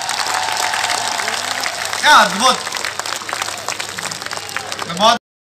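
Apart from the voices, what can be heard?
audience applause at a poetry recital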